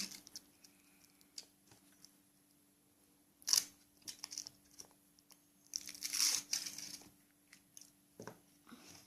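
A Kinder Surprise egg's foil wrapper being unwrapped, heard as quiet, close crinkling and crackling in two short bursts with faint rustles between.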